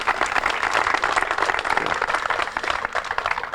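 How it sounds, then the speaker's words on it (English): An outdoor crowd at a golf course dedication ceremony applauds the mayor and city council president, steady moderate clapping from many hands throughout, with slight fluctuations in intensity. "Please join me in giving the Mayor and City Council President a round of applause."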